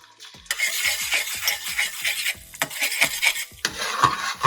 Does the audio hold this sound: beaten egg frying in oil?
yes